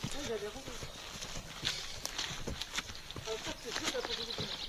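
A mare carrying a rider walks along on an outing, hooves clip-clopping in a steady rhythm close by, while a person talks over the hoofbeats.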